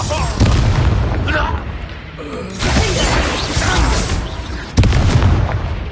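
Spell explosions in Hogwarts Legacy, with heavy booming blasts and sharp bursts amid game combat noise and a voice shouting in the middle.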